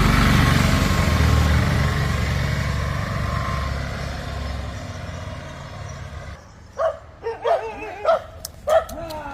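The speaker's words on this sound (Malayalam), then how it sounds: "സജിൻ, തെയ്യം കെട്ടിയ ആൾക്ക് നേരെ നായ്ക്കൂട്ടം പാഞ്ഞു വരുന്നത് കാണാം." A steady engine-like drone fades, then several sharp stray dog barks ring out in an irregular burst, fairly close, as a pack rushes at a Theyyam performer.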